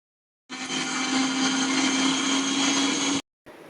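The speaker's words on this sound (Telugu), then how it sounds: "ఈ చిన్న చిన్న మామిడికాయ ముక్కలు ఉన్నాయి కదా, అవి కూడా మనం మిక్సర్ జార్లో వేసుకొని గ్రైండ్" An electric mixer grinder whirs loudly and steadily for close to three seconds as it grinds small pieces of raw mango in its jar, stops abruptly, then briefly starts again.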